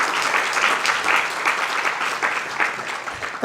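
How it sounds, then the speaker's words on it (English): Audience at a women's leadership in climate action event giving a round of applause, loud, continuous clapping close by with no talking. "Can we also give her another applause as she walks back to her seat?"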